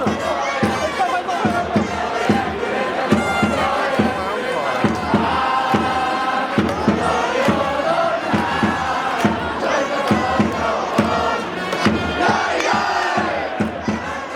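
Japanese baseball fans at a ballpark chant loudly in rhythmic unison during an umbrella dance after their team scores, a dense crowd roar with regular pulsing beats throughout.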